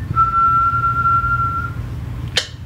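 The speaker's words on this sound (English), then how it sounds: "what I'm going to do with that melody instead of playing on the guitar is I'm going to whistle it" A single sustained whistled note holds steady for over a second, followed by a brief sharp noise, over a low steady background hum.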